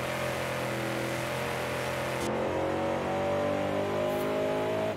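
Engine of a Rally Fighter driving in Forza Horizon 5, a loud sustained drone that stays close and steady, shifting gear partway through and then climbing again in pitch, with no talk over it.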